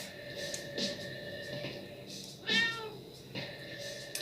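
A cat meows in the video game Tokyo Dark Remembrance, one clear drawn-out meow midway with softer mewing sounds around it, set against a low murmuring nightclub ambience.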